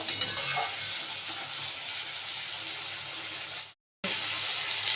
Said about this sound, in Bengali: এদিকে মশলাটা দিয়ে আমি আলুটাকে কষিয়ে নিচ্ছি একদম তেল ছাড়া পর্যায় পর্যন্ত